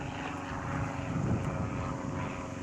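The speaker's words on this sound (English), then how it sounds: "That's the sound of my helicopter taking me back to the studio." A steady, loud engine roar with a low throbbing rumble, like a helicopter's rotors and turbine, holding constant throughout with no voices.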